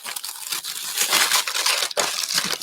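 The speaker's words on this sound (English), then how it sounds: "Let me just cut this open." Packaging of a Peep bunny tiered tray craft kit being cut open, with close crinkling, tearing and crunching of plastic and paper over a couple of seconds in irregular bursts and no voices.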